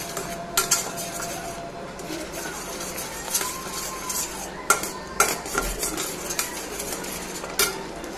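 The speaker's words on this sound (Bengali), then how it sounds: "এরপরে আমি এই পেস্টটা অ্যাড করব, একটু ফ্রাই হয়ে গেছে তেজপাতাটা, তো এটাকে ভালো করে ফ্রাই করে নেব।" A spice paste is stirred and fried with bay leaf in a pan, with metal utensil scrapes and clinks over a low, steady sizzle, close up, with no talking.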